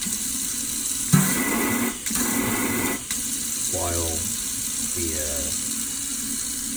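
Water runs from a kitchen faucet with a Watermark sprayer after a leak repair, a steady broadband rush that stops and restarts, while a person talks over it.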